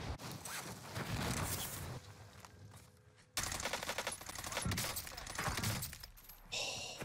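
Rapid automatic bursts of PPSh submachine gun hip-fire in a video game, loud and dense, with a brief gap midway before the firing resumes.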